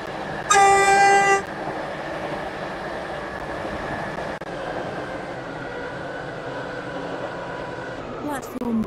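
A short loud horn toot opens, then a steady rumbling hum of a video-game train running carries on for several seconds, with speech faintly underneath.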